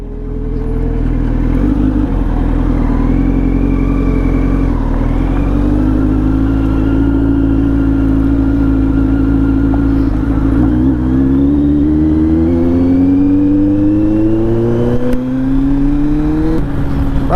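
A Benelli 600i motorcycle idles loudly up close, its exhaust droning steadily, then revs in repeated rising and falling surges toward the end.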